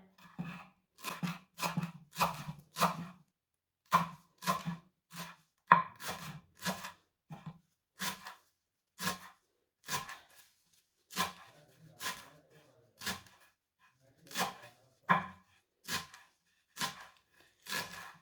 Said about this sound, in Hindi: सब्ज धनिया को बारीक बारीक काट लेते हैं